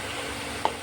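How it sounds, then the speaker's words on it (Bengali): Beans, eggplant and lentil dumplings frying in a pan for a curry, a steady close sizzle with one brief stir of the spoon near the end. "এবার আমি ভালো করে নাড়াচাড়া করে নেব"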